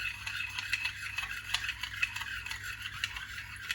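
Spoon stirring yogurt into milk in a bowl, quick soft clinking and swishing strokes in an even rhythm, close and quiet with no talking.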